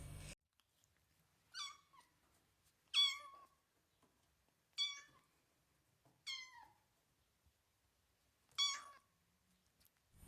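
Kittens meowing in five separate, spaced-out calls, each a short, high, wavering cry, heard alone against a quiet background.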